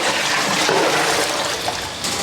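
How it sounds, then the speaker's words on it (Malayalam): Water pours steadily into a pot of coconut milk for coconut rice, a loud continuous rushing splash close by. "തേങ്ങാപ്പാൽ ഒഴിച്ചിട്ട് പോരാത്തതിന് നമ്മൾ വെള്ളവും കൂടി ചേർത്തിട്ടുണ്ട്"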